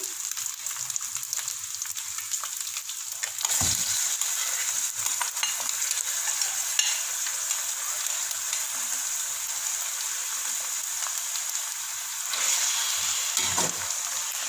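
Minced mutton and potatoes fry in a pan with a steady, close hiss, broken twice by brief scraping stirs.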